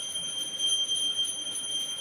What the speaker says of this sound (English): That is the sound of the bell of puja being done.